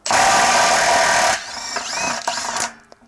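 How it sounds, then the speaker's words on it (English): A Milwaukee impact wrench hammers loudly and steadily on a water heater anode rod, then stops and is followed by a few whining spin-downs and short bursts as it runs free. Close and with no talking. "I'm going to use it in my Milwaukee impact wrench. I'm going to put it right on the anode rod."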